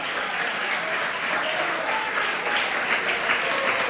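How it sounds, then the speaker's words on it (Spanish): A church congregation claps as an offering of praise to the Lord, a dense, loud wash of applause sustained throughout with slight swells. "déle esa ofrenda de aplauso al Señor."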